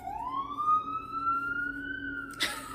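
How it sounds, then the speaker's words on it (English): An emergency vehicle siren wails outside in New York, a steady rising tone heard from a distance through the room, with a brief sharp clatter near the end. "I'm sorry for the sirens. I live in New York."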